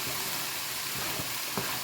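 Onions hit a hot pan for chicken breast samosa filling and sizzle with a steady, fairly quiet hiss over a short moment, with a faint stir near the end.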